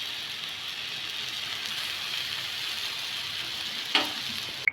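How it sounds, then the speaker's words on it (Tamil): Tomatoes and coriander frying in a pan give a steady, even sizzle like light rain, with two brief clicks of a utensil near the end. "தக்காளி நல்லா ஃப்ரை ஆயிடுச்சு."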